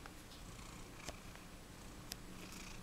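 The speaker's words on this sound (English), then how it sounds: "And there's my cat." A pet cat purring close by, a soft, steady low rumble that continues throughout, broken by a couple of faint brief clicks.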